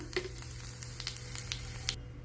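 Asafoetida crackling in hot oil during a tempering for curd rice, a steady close sizzle with sharp pops and ticks scattered throughout, then cutting off abruptly near the end.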